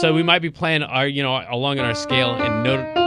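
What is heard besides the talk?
No everyday noises stand out.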